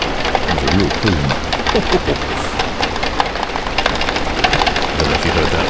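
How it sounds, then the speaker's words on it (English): Heavy pouring rain during a thunderstorm at the Port of Southampton, a dense, steady hiss that fills the whole clip, with low rumbling and some faint voice-like sounds mixed in. "Wow, that is absolutely pouring."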